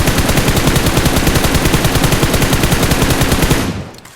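A sustained, rapid automatic gunfire spray in a mobile shooter game, loud and evenly rhythmic for several seconds before stopping abruptly.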